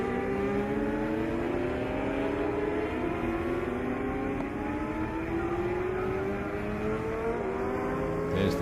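A 600cc racing motorcycle laps at the Peak Cup against 1000cc machines, its engine a loud sustained whine with rising and falling pitch sweeps as it accelerates and shifts, steady and close throughout with no voices.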